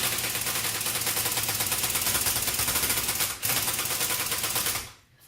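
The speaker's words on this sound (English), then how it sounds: "We'll go ahead and see if we can hit it with the air gun again here." A pneumatic impact wrench hammers at a stuck part in one long, loud, continuous rattling burst that holds steady for nearly five seconds, briefly dropping once midway, then cuts off abruptly.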